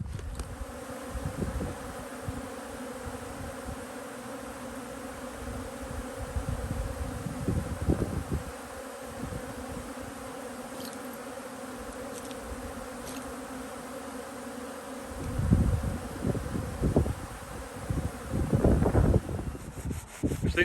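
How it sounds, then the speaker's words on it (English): Honey bees buzz around their hives on a customised trailer out in the open, a steady, dense drone with a few nearer passes, mixed with gusts of wind buffeting the microphone. "You can see the bees over there"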